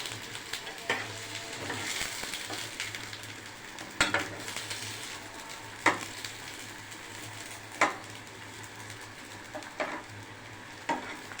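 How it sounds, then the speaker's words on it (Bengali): Pointed gourds (potol) fry lightly in a pan for potol dorma, giving a soft steady sizzle broken by sharp, regular scrapes and clicks of a stirring utensil against the metal, with no voices. "হালকা হালকা ফ্রাই করে এগুলো ফ্রাই হয়ে গেছে, যেন খোসাটা একটু একটু ভাজা হয়ে যায়।"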